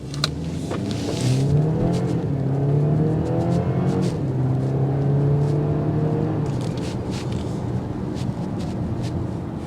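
A 2024 BMW X4 xDrive30i accelerates hard from standstill toward 60, its engine note climbing steadily through the gears with a steady road roar underneath, heard from inside the cabin.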